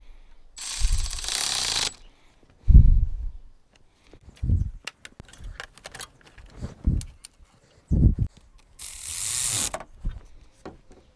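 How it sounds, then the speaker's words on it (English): A ratchet with a 10 mm socket tightens the lead positive battery terminal clamp on a 2008–2018 GM Sierra/Silverado/Tahoe, giving a few close, short bursts of ratcheting clicks separated by pauses and some handling noise. "you tighten in the positive with a 10 millimeter"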